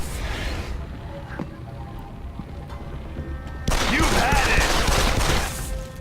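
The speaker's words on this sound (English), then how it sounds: "What the hell are you shooting at?" Video game gunfire from Deus Ex: Human Revolution: a low, steady background of game ambience, then a loud, dense burst of rapid shots near the middle that carries on for about two seconds before easing off.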